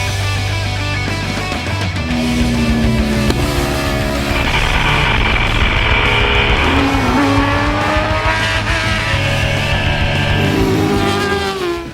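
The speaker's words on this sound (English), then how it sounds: "We're riding all 7 factory superbikes." Factory superbike motorcycles from the 2009 World Superbike field roar continuously on a race track, the engine note rising and shifting through gears, loud and close throughout.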